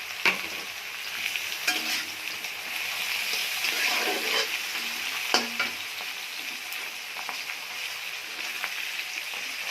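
Fish roe and onions sizzle steadily in a frying pan throughout, with occasional stirring scrapes and clatters over a continuous crackling hiss, close and fairly even in volume.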